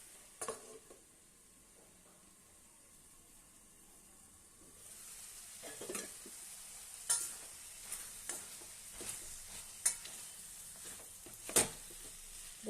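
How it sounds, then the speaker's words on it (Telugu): Chopped bottle gourd fries in a pan for chutney, a soft steady sizzle with occasional stirring clinks and scrapes of a spoon against the pan, fairly quiet and close. "ఆనపకాయ వేగుతుంది"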